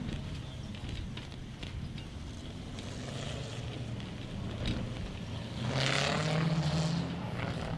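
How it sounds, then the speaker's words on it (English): A tractor rolls past at the Meremere Drift venue in New Zealand, a low engine drone rising steadily over outdoor wind noise and growing louder toward the end as it draws nearest. "It is weird to me to watch one of these tractors go past behind us"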